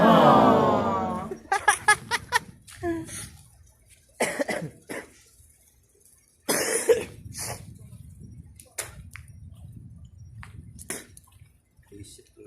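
Several harsh coughs burst out in quick clusters, followed by quieter scattered coughs and throat sounds with gaps of near silence between them.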